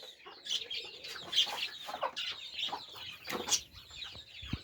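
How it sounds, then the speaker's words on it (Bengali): Exotic chickens, including a Silver Cochin, cluck close by in a poultry setup, making irregular short clucks and calls with no one speaking. "এছাড়া আমার সেটআপে আরও এক্সোটিক কিছু মুরগি এনেছি"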